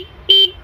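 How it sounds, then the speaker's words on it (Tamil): A single short, loud honk from the horn of a Hero Xtreme 160R motorcycle, a steady buzzy tone lasting about a fifth of a second, heard close up against quiet surroundings. "ஹாரன் பொறுத்த வரைக்கும்"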